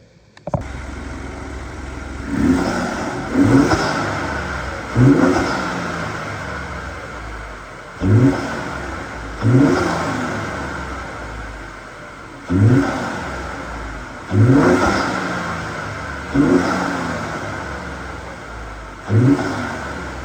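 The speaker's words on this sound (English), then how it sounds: "let's get a couple sound clips of the intake installed and see how it goes" A 2019 Ford F-150 EcoBoost truck engine fitted with an aFe intake revs in repeated loud bursts, each rising then falling back to a steady idle, about eight blips in a row with no talking.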